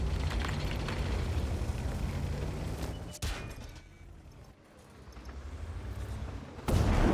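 Artillery shells bursting in World of Tanks, a heavy rumbling barrage with a sharp impact near the three-second mark and another burst toward the end, loud and close over a low churning background.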